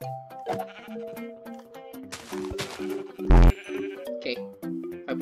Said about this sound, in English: Sheep, sheep, I need you right now.